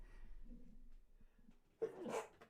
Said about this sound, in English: Needed a cheeky little sneeze.